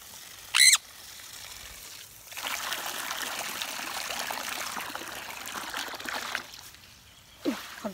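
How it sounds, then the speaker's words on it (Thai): Water is poured into a bird drinking spot, producing a steady trickling stream for several seconds that then fades out. Short, sharp high calls come just before and after the pour. "เทน้ำเสร็จก็ต้องเติมเพราะไม่งั้นนกจะไม่มีน้ำให้ดื่ม"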